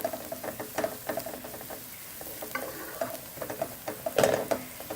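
Spice powders frying in hot oil over medium-high heat for a Bangladeshi chicken curry, a soft crackling sizzle with intermittent clinks and scrapes of stirring, one louder scrape near the end, no voices.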